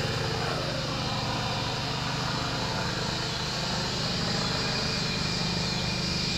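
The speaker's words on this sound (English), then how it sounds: "We got the helicopters flying around in my neighborhood" A steady, distant helicopter drone hangs in the background over a neighborhood, faint and continuous as it circles somewhere overhead.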